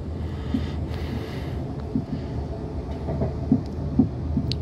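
A train runs along the main line toward Brookwood station, heard from on board as a low, steady rumble with faint rhythmic knocks of wheels over rail joints.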